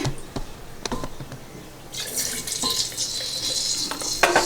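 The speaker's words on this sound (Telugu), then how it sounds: "సో అదే ప్యాన్లో కొంచెం ఆయిల్ తీసి" Cooking oil, about three to four tablespoons, is poured into a pan for vangi bath; a few sharp clicks lead into a steady splashing pour that continues close by to the end.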